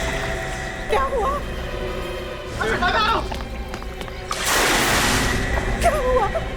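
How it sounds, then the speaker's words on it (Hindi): A heavy splash of someone falling into water in a TV crime drama set at a bungalow terrace, a broad burst around the middle, with people talking and shouting before and after. "ये तो किसी के पानी में गिरने की आवाज है।"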